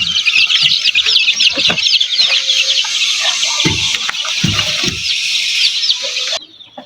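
Many native-breed hens cluck and chatter close by in a busy, overlapping flock, with scattered thumps and shuffling underneath before the noise drops off.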